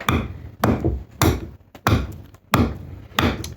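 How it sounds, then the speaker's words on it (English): Knife chopping in sharp, evenly spaced strokes, six firm thunks about half a second apart, close and distinct with no talk. "we're just going to do a little bit more chopping"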